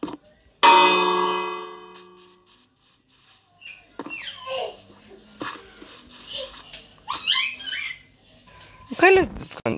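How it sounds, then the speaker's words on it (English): A bell rings out once in the Minecraft video game, a clear resonant clang that decays over about two seconds, followed by scattered game sounds and quieter squeaky noises. "Just ring the bell."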